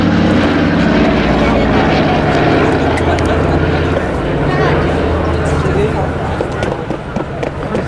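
A Battle of Britain Memorial Flight Douglas DC-3 Dakota propeller aircraft flying at an RAF Cosford airshow, its loud, continuous piston-engine and propeller drone filling the air, with a voice talking over it.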